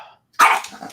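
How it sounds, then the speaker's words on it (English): A dog gives a single short, sharp sneeze-like bark, close and sudden after a brief hush, following a faint soft sound at the start. "That was like a sneeze/bark."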